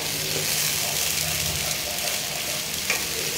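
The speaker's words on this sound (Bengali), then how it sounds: "তেলটা গরম হয়ে গেছে, এবারে আমি যে মশলার পেস্টটা বানিয়েছিলাম, পেঁয়াজ, রসুন, আদা আর শুকনো লঙ্কা, সেটা ছেড়ে দেবো।" A paste of onion, garlic, ginger and dried chili hits hot oil with a loud, steady hiss and sizzle that runs the whole time, close and unbroken.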